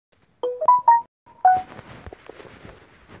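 A run of short electronic notification tones from a WhatsApp group chat, several quick pitched blips in a row, followed by softer scattered clicking and rustling in the background.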